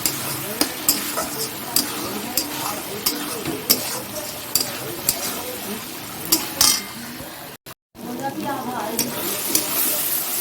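Spice masala sautéing in a pan before chicken goes in, with continuous sizzling and repeated sharp scraping strokes of a spoon against the pan, close and fairly loud, with a brief dropout near the end.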